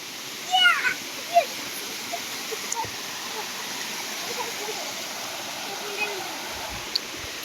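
A mountain waterfall near Panchalingeswar temple rushes in a constant broad splashing roar, with faint voices and a few brief knocks and calls over it.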